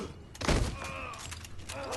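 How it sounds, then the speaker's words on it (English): A shotgun goes off in the video game Sleeping Dogs, one loud, punchy blast that fades into a short tail of game noise. "I took a shotgun blast to the chest"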